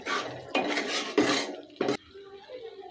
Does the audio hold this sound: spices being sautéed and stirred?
yes